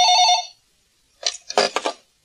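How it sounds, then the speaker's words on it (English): A telephone rings once in a short, bright burst, followed by silence and then a few brief clattering noises, all fairly close and clear with no talking. "One morning in August, Joanna answers the phone."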